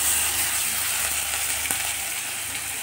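Cumin and coriander powder fry in hot oil in a pan for a jackfruit curry, giving a steady, close, dense sizzle with no voices.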